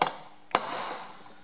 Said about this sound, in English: put a centre pop mark there, a nice big one